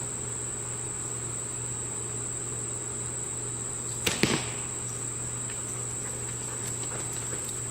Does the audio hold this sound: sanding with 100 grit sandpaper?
no